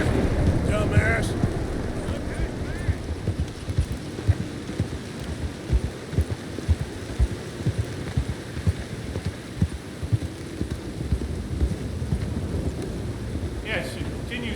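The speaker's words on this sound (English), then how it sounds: "it continues to rain, so that's cool" Steady rain falling in Red Dead Redemption 2, a dense hiss with close patters and drips on a tent, constant under occasional low voices.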